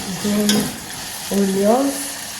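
Chopped green pepper hits a hot pan and sizzles, a soft continuous frying hiss with a stir or two, while a voice speaks briefly over it.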